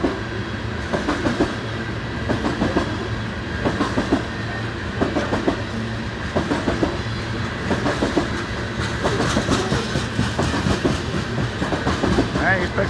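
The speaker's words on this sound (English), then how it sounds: "The other train's going on to the Sioux City sub." Freight train rolling along a BNSF rail line at a wye near Ashland, Nebraska, a loud steady rumble with rhythmic clickety-clack of wheels over rail joints and faint squeals, continuous and close throughout.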